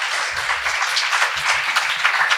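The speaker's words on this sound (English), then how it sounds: "A big round of applause" Audience at a book launch applauds, producing a brief, dense burst of many hands clapping at close to moderate distance, even and sustained for a couple of seconds without speech.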